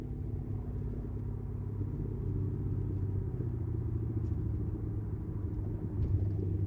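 A supercharged Coyote V8 swapped into an SN95 Mustang, cruising at about 2,500 RPM in third gear, a steady low engine rumble from inside the car, even and unbroken throughout.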